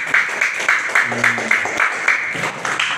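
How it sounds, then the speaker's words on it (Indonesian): A small classroom group claps for the fourth discussion group, with sharp, fairly close hand claps in a quick, uneven rhythm and a voice briefly audible in the middle. "Tepuk tangan untuk kelompok keempat."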